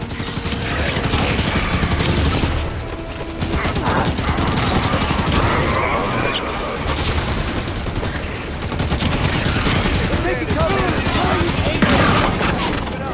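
Sustained, dense gunfire rattles loudly throughout a firefight in the Halo 5: Guardians video game, rapid bursts overlapping with crashes and battle noise, while voices speak underneath.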